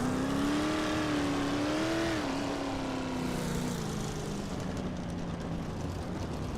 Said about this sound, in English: Let's listen to some Methane Monsters 360 wingless cars